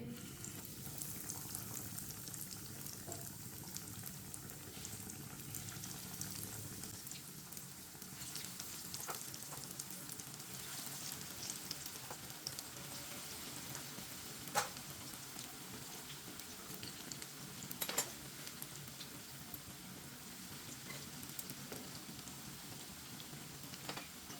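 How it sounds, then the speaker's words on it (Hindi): Bread pieces frying in hot oil in a pan, a steady dense sizzle and crackle running throughout, close and fairly loud, with a few sharper pops along the way and no talking. "ऑयल हमारा अच्छी तरह गर्म हो चुका है। एक एक ब्रेड पीस लेंगे, डालते जाएंगे।"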